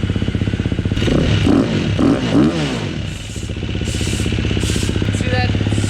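A KTM 350XC-F dirt bike engine, freshly rebuilt top end, starts up and settles into a fast, steady four-stroke idle. There are loud revving swells early on, then a continuous close putter, with mechanical clatter throughout.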